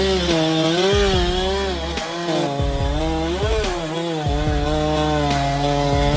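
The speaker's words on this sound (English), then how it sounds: "We are watching a professional logger make a crucial cut on a giant tree trunk" A professional logger runs a big chainsaw through a giant tree trunk, the engine droning loud and steady with repeated dips and revving surges as the bar bites into the wood, alone and close up.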